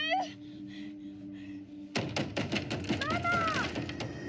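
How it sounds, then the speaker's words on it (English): Dull thumps and banging from a woman trapped inside a closet in an abandoned cabin, pounding on the closet door from within, arrive as a dense burst of knocks over music and a voice. "the moment of Alice slamming on the inside of the closet door"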